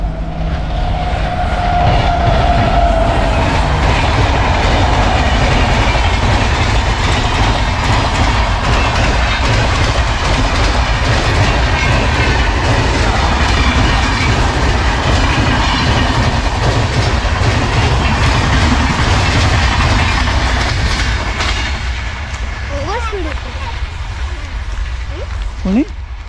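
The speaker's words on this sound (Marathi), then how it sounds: "चला रेल्वे आली हे गाडी आली" A train rolls loudly past a Konkan village, its steady wheel rumble and clickety-clack filling the whole stretch and easing slightly near the end, with people talking over it.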